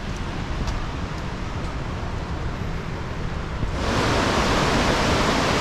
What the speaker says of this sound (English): a huge waterfall called Njordfoss